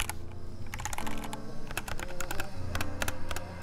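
Fast, uneven keystrokes clatter on an upgraded Keychron K6 mechanical keyboard fitted with new keycaps, each press a crisp, close click with no talking.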